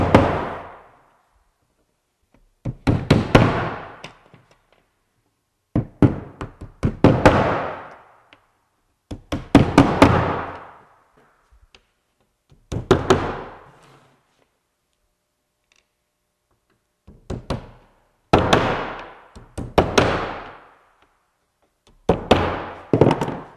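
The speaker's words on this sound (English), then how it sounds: "You want to put the dowel in a little bit carefully. Don't smash it in really fast." Wooden dowels tapped into the edge of a melamine drawer box, clusters of sharp close knocks and thunks separated by short silences, repeated about eight times.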